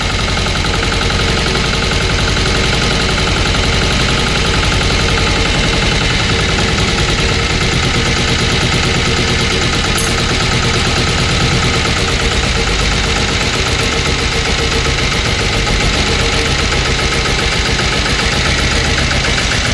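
A three-wheel Sanedo tractor engine runs continuously during rev adjustment, a loud close rapid knocking chug that stays steady for the whole stretch, with no voices.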